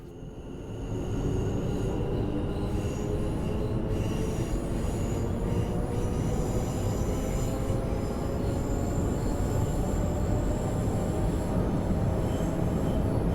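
Class 710 electric train in TfL Overground livery on the West Coast Main Line in Train Sim World 5, pulling away slowly: a steady rolling rumble with faint wheel squeal, continuous and close throughout.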